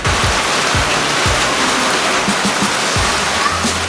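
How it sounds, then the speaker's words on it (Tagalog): Sudden heavy rain pours down steadily in a Tundo neighborhood, a dense continuous hiss with scattered drips and low thumps, loud and close. "biglang umulan."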